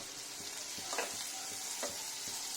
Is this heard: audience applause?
no